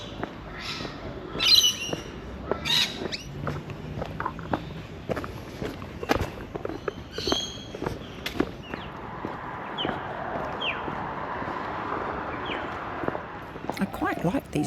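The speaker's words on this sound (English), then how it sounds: "Hear those birds? They remind me of the tui back home." Birds chirp and call in short, scattered bursts outdoors, mixed with footsteps and background voices.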